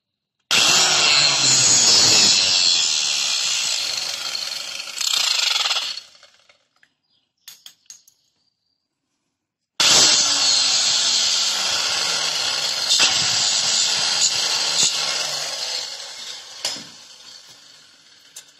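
A handsaw cuts through PVC pipe for a quail call in loud, steady rasping strokes, stopping for a silent pause before a second long burst of sawing, with no talk.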